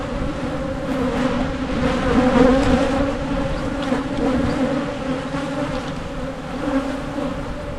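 A honey bee swarm buzzes densely around a hive four weeks after being housed, a loud continuous droning hum with close wingbeats passing near, no voices.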